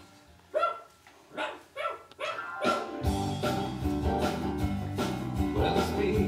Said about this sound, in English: He's got a great big bark that you might have heard.